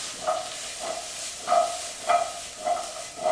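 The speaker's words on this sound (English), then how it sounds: "I'm just going to give them a quick toss." Browning potatoes fry in hot oil, giving a steady close sizzle with recurring louder bursts roughly every half second as the pan is tossed and stirred.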